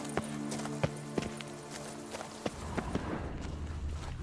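Hoofbeats from Roach, Geralt's horse in The Witcher 3, clopping in a steady walking rhythm over a low musical drone, with a few sharper hoof strikes standing out near the listener.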